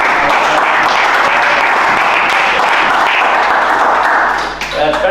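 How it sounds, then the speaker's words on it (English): Loud, sustained applause from people gathered at a town council meeting in Hexham, steady and dense for several seconds before thinning out near the end. "It's very rare we get applause in here"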